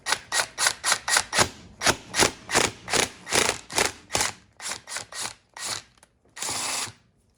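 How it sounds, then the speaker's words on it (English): A three-jaw puller draws a gear off a Honda dirt bike during a gear reduction install, giving about a dozen loud, rhythmic bursts of ratcheting clicks. The bursts grow more spaced near the end, and a longer grinding burst closes the sequence. "a 3-jaw puller works pretty decent"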